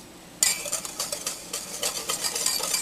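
Three eggs with white sugar are whisked in a bowl for a French silk pie, giving rapid, close, rhythmic scraping and clicking strokes after a sharp start.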